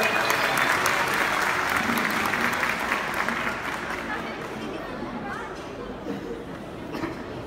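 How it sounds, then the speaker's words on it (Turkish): Crowd applause and cheering at a Turkish lumberjack sports show, loud and dense at first, then thinning out, with chatter and voices mixed in. "bir alkış desteği çıkalım lütfen."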